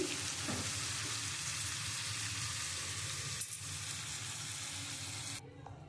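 Chicken being cooked down in a pan for chicken kosha sizzles loudly and steadily as a little hot water is added, with a brief burst of spitting midway before the hiss cuts off abruptly near the end.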